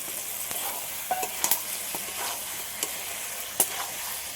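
Yogurt-marinated chicken and fried potatoes, for chicken cooked with ripe mango, sizzle steadily in a pan, with scattered sharp spatula scrapes and clicks over the hiss and no talking.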